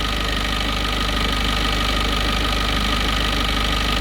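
A 2018 Peugeot Expert van with a camshaft position sensor fault runs its engine in a loud, steady, close idle that hums on without change.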